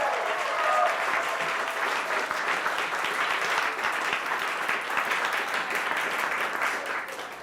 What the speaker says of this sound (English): Let's give everyone a round of applause for Kate for the hard work